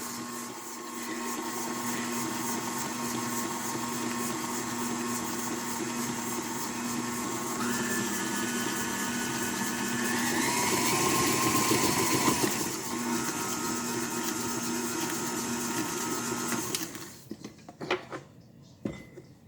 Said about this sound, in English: So if you're using your KitchenAid mixer, you do not want to use your wire whisk.